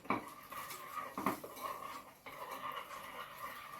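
A spoon stirring melted chocolate, cream, powdered sugar and milk in a bowl, with repeated clinking and scraping against the sides, close and fairly quiet, with no voices.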